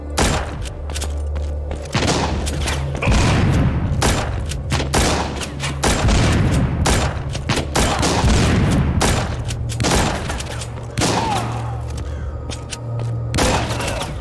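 Repeated heavy gunshots in The Walking Zombies 2, booming reports arriving in irregular bursts of several shots with brief gaps between them, loud and close throughout.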